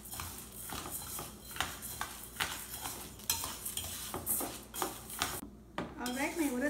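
Urad dal dry-roasting in a pan until medium brown, with steady stirring scrapes and clinks of a utensil against the pan over a faint sizzle, continuous and fairly close.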